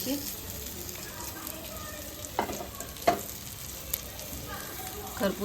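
Stuffed bitter gourds fry in a pan with a soft, steady sizzle, broken by a few sharp pops and the scrape of stirring; a voice talks over the cooking.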